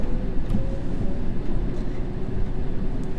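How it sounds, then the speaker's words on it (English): Steady low rumble of an electric train pulling away from a station in a London-style train simulator game, a continuous droning hum with faint higher whines, no voices over it. "This train is ready to depart."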